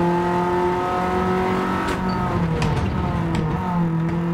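A BMW race car in Gran Turismo 7 on the Nürburgring, its engine revving hard and shifting with a loud, sustained roar and tire noise throughout.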